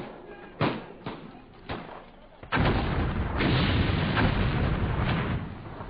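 A railway bridge is blown up: three sharp blasts ring out in turn, then a heavy sustained roar of explosion and rumbling debris fills the rest of the moment, loud and dense.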